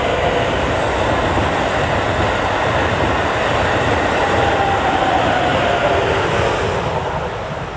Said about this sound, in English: here comes that other train.